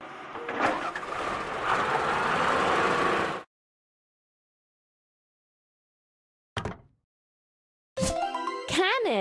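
A kids' transport video game excavator rumbles for about three seconds with a loud, rough engine roar that cuts off abruptly. After a silence comes a brief thump, then a burst of bright game chimes.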